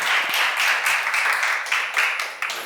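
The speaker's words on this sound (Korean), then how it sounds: "박수 좀 쳐봐." An audience at a church seminar claps together, a dense run of hand claps that swells and dips in a few waves, close and steady throughout.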